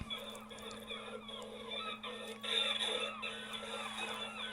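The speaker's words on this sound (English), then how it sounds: "It was a bit noisy because somebody had been feeding the seagulls behind me." Many seagulls call and squawk at once while being fed near Ferryden, Montrose, Scotland, a busy overlapping chorus of harsh cries, fairly distant, louder toward the end.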